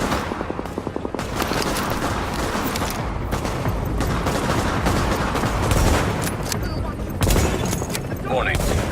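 Heavy sustained gunfire in The Division on PS4, dense overlapping bursts and booms roaring continuously with rapid shots at the start.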